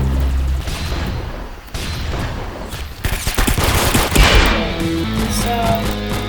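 Gunfire in the Roblox game Arsenal, rapid overlapping shots and bursts at close range, growing denser and louder in the second half with short mechanical clicks between them.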